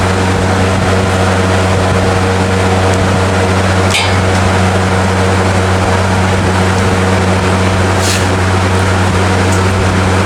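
A small generator of unknown make, started with no choke, runs with a loud, steady droning hum and close mechanical rattle from start to finish, with a couple of brief sharper clicks.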